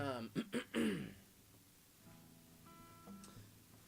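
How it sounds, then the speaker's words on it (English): A few short throaty grunts and a rough clearing of the throat up close, followed by quiet background tones. "Gotta clear my throat."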